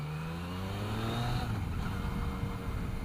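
Engine of a 2017 Yamaha FJ-09 motorcycle heard while riding, a loud continuous drone with rising pitch as it accelerates, wrapped in steady wind rush, no talking.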